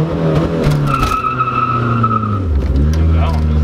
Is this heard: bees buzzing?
no